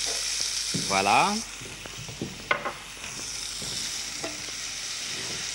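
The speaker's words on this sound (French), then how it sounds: "Les navets commencent à bien blondir." Turnips browning in a pan, sizzling steadily and close with utensil clinks, while people talk briefly over it.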